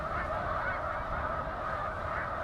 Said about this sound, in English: Snow geese also make a honking sound like Canada geese